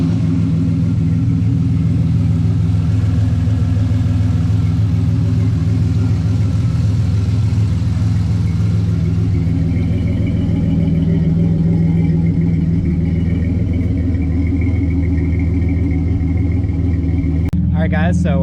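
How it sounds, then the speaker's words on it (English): A car engine idles while warming up after a 2 bar MAP sensor and L67 ignition system install, a loud, steady low rumble close by that holds constant, with a brief sharp sound at the very end. "we got the car all warmed up."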